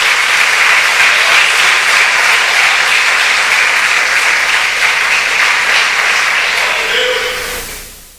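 Congregation applauding at a Portuguese-language church service, a dense, loud, steady wash of clapping hands that holds for several seconds before fading out at the end.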